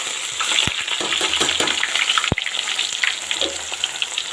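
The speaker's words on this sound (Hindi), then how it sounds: "घी को मैंने अच्छे से गर्म कर लिया। अब इसमें डाल देंगे प्याज" Onions frying in hot ghee, a close bright crackling sizzle with a few sharp clanks and stirring scrapes, no talking.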